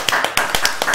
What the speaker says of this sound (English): I need to clap harder.